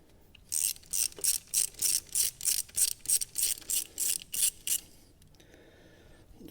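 Rapid ratchet clicking in a dozen even bursts while T25 bolts are loosened on a Ford Fiesta coil pack, close and crisp, then a brief quiet handling sound.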